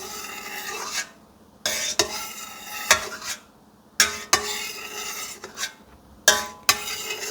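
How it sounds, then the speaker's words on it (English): A knife scrapes and clinks through goat cheese curd in a metal pot, in short rasping strokes separated by brief pauses, close and fairly loud. "Just to make sure that the curd is cut all the way through."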